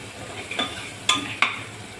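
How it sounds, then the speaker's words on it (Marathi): Shahjira seeds dropped into a hot pan for khichdi, a soft sizzle with a few sharp clinks and scrapes of a spoon stirring against the pan, close and fairly quiet. "आता आपलं शाजिरा घालणे."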